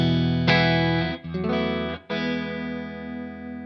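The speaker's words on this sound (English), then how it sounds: "when you go into the heel position of the tremolo pedal, it's supposed to be your unaffected signal" Clean electric guitar with an Ernie Ball Expression Tremolo pedal rocked to heel position, so no tremolo applied: sustained strummed chords ringing steadily, loud and close, with a brief break between strums and no talking.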